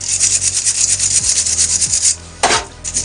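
Something is scrubbed clean by hand during a repair, heard as rapid, close, gritty rubbing strokes in an uneven rhythm, pausing once briefly before resuming.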